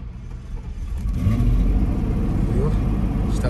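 The engine of a Mercedes car left abandoned for years cranks and catches, then runs with a low, steady rumble that rises and holds, close by with faint background noise.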